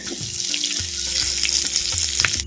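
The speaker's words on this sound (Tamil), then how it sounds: "சின்ன வெங்காயத்தை வரமிளகாய் மிளகு சீரகம் வெந்தயத்தோடு அப்படியே எண்ணெயோடு சேர்த்து அப்படியே வதக்குறேன்" Shallots, dried red chillies, pepper, cumin and fenugreek sautéing in hot oil for a village-style dry fish gravy, a loud close sizzle with crackling bursts throughout.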